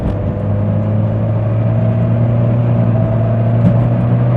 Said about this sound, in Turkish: Şimdi şurada bir yükleniyorum gaza.